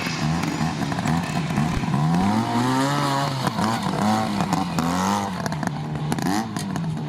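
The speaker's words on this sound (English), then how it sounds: "This is a nice aerial engine." A vintage Ariel motorcycle engine running loudly and close by, a steady throaty rumble with some revving rising and falling throughout.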